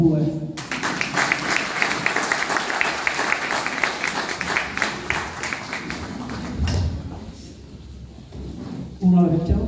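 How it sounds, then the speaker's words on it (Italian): Warm applause from an audience at an Italian book presentation in Lercara Friddi greets two poets, a dense steady clapping that runs several seconds and then thins out, followed by shuffling and a voice close by. "vorrei accogliere con un calorissimo applauso Concetta Buongiovanni e Giuseppe Robue"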